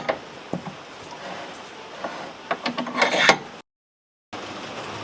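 A swingarm pivot bearing on a motorcycle is pressed into place, making scraping, rubbing metal sounds with a few sharp clicks and a grinding rise near the end. It is moderately close, followed by a short break in the sound.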